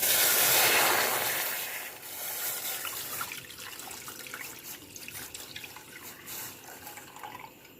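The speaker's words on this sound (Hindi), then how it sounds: "पास 1 लीटर दूध है, हम सबसे पहले पैन में ये ऐड करेंगे।" One litre of milk is poured into a cooking pan, a steady close liquid splash and trickle that starts strongest and then settles into softer, uneven gurgling.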